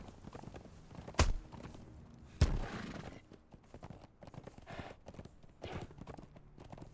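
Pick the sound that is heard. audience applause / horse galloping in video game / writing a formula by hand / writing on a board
horse galloping in video game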